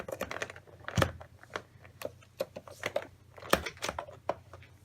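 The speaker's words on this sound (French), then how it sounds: "D'abord, il faut dévisser le clavier." Sharp clicks, taps and plastic rattles as an old computer keyboard is unscrewed and pried open, irregular bursts close up with a few louder snaps.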